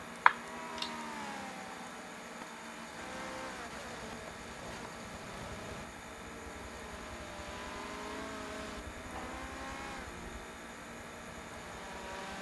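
GT race cars drone past in a racing video game, a steady, fairly quiet engine hum with gentle rises and falls, no voices.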